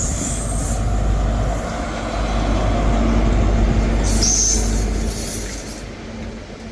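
A train, class 43 power car 43150, on the Glasgow Queen Street to Aberdeen service, rumbles steadily with heavy low-frequency engine drone and wheel noise, fairly close and continuous throughout, with a brief higher whine partway through.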